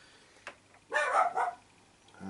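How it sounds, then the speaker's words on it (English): A dog barks a few times in the background of a quiet hobby studio where miniatures are being painted, the short burst of barks moderately loud, with no one talking. "That's my dog barking."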